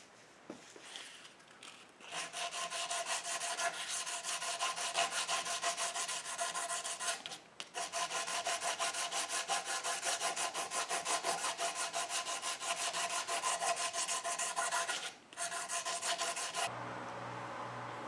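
Steel cleaver made from a circular saw blade, its handle hand-finished with a file: a steady, close rasping stroke repeated rapidly and continuously, broken by two short pauses.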